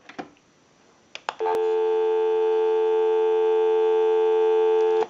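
A steady, loud busy signal drones without a break for several seconds from a Mickey Mouse novelty telephone after a few clicks and short beeps.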